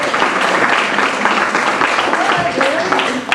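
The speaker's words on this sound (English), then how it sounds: "A round of applause for all of them." A crowd applauds steadily with dense, continuous clapping from start to finish.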